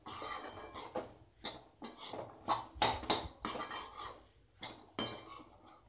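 Masala mixture for hotel-style masala dosa is stirred in a pan, with a metal spoon scraping and clinking against the cookware in about a dozen distinct, irregular strokes, close and clear with no voices.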